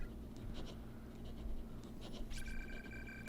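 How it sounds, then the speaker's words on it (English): A ballpoint pen scribbling on paper in the horror video game Corpse Party: faint, quick, scratchy strokes in short bursts over a low steady hum, with a thin tonal chime near the end. "It sounds like a ballpoint pen scribbling away on a sheet of paper."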